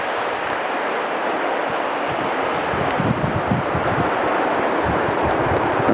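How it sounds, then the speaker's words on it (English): A muddy, fast-running creek in the North Absaroka Wilderness in April gives off a steady, loud broadband rush of water, mixed with gusting wind noise on the microphone and no talk. "It's the creek."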